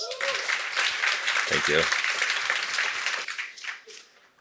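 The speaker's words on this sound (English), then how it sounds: "Let's give him a round of applause." Audience applause at a tech conference talk fills the room for several seconds, with a short spoken thanks over it, then it fades away.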